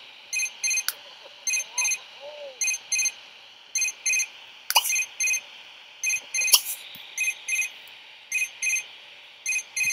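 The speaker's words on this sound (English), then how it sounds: "Answer your phone, Cesar." A repeating electronic phone ring from The Sims 3, short bright double bursts in a steady rhythm throughout, with a few sharp clicks and faint murmuring voices in the background.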